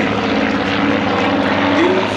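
A Fokker S-11 propeller trainer flying over during a Duxford summer air display, a loud, steady engine drone with a rising whine near the end and no talking.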